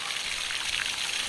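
Water squirts steadily from bullet holes in a bucket after test shots from a Taurus Judge Public Defender Poly revolver, a continuous close hissing trickle.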